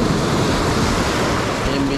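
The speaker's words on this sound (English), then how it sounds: "Big waves stirred up all the sand." Ocean surf breaks steadily along a sandy shore, a loud, continuous broadband roar of waves with wind rushing across the microphone throughout.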